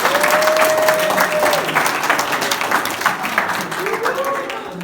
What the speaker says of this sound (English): can we give the round of applause?